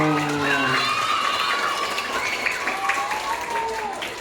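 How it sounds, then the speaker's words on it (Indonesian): Schoolchildren clapping at a madrasah ceremony, a continuous ragged patter of small hands with excited children's voices and shouts layered over it. "Tepuk tangan ya."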